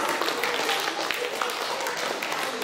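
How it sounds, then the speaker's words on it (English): An audience at a Wearable Arts 2021 show applauds, giving a fairly quiet, steady patter of many hands clapping for a few seconds at a distance. "Let's give him a round of applause."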